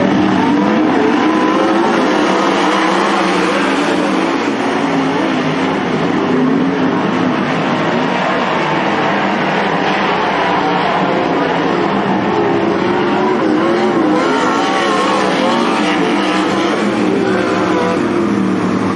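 Race cars roar continuously around the Cottage Grove Speedway during an ASCS sprint car heat race, a loud, dense engine drone with overlapping cars and no talking.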